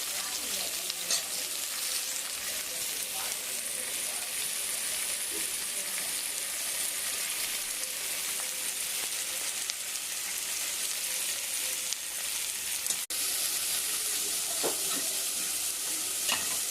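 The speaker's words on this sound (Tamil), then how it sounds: "அடுத்து பெரிய வெங்காயம் வெட்டி இது மாதிரி வதக்கிக்கணும்" Onions, curry leaves, chana dal and green chillies sautéing in a pan for a masala, a steady close sizzle and frying hiss running throughout with occasional stirring scrapes.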